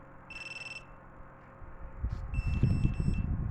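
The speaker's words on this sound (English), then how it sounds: "you'll hear a beep from my drone" A drone's flight controller gives short high electronic beeps when it is plugged in, with one tone burst early and a chirping cluster later over rising low rumbling handling noise.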